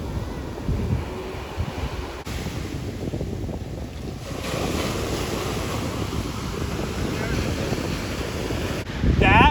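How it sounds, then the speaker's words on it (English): Ocean waves break and wash up a beach in a continuous rushing roar, mixed with wind buffeting the microphone and a louder surge at the very end. "the sounds of the waves coming in"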